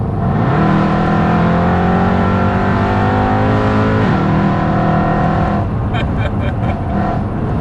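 A supercharged Mercedes C63 AMG making over 700 bhp accelerates hard up close. The engine climbs loudly through the revs, drops briefly at a gear change, then pulls strongly again before easing off.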